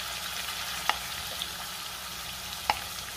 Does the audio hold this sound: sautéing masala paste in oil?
yes